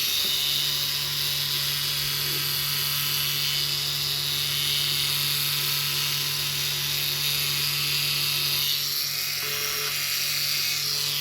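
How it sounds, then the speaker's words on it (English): A Dremel rotary tool fitted with a sanding drum grinds on diecast metal from a 1969 Matchbox No. 42c Iron Fairy crane, a steady high-pitched whine running close and loud for the whole stretch without talk. "I've got a sanding drum on the Dremel,"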